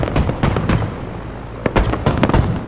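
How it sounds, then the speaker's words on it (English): Anti-aircraft gun fire in Battlefield V, heard as a series of sharp booming bursts in quick clusters with brief gaps, loud and fairly close, with no talking. "that's an anti-air gun shooting at your location"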